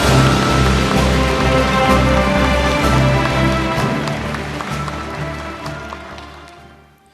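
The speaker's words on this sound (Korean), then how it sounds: "시상해주신 대통령님과 수상자분들께 다시 한번 큰 박수 부탁드리겠습니다" A large audience at a Korean science awards ceremony with the president applauds loudly and densely, a continuous roar of clapping over musical tones that fades out toward the end.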